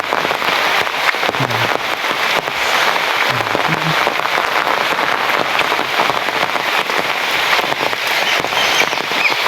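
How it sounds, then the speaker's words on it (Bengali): Heavy rain pours down in a village, a dense, continuous loud hiss of drops hitting surfaces with no pauses. "আসাই গ্রামের বৃষ্টির ভিতর ভিডিওটা করতেছি"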